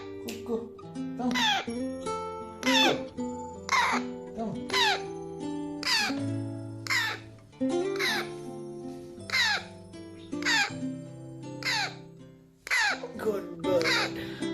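An African grey parrot gives a run of loud, harsh squawks and whistled calls in a rhythmic repeating pattern, each burst followed by lower tonal notes, close to the microphone in a quiet indoor space.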